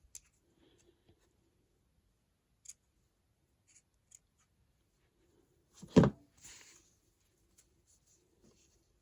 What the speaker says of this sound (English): I am going to just snip these off where I feel like they need to be snipped